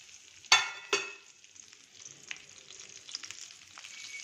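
Mustard seeds and lentils hitting hot oil for a South Indian tempering, opening with two sharp crackling bursts that settle into a soft, steady sizzle with faint scattered pops.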